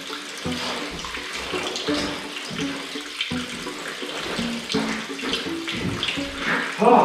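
Water spills and splashes steadily from a cracked pipe at an off-grid hydro plant, running onto the floor in a continuous, fairly loud gush with some surging.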